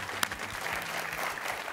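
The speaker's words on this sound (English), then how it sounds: "Nice round of applause for the Newton North squad" Audience applause at a high school quiz show, a short burst of steady clapping from a modest crowd, heard alone.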